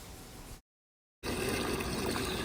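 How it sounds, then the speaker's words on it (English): Water pours into a tortoise's bowl on a giant tortoise farm, a steady splashing fill broken by a brief silent gap before resuming louder and fuller. "This is their morning water bowl I'm setting up."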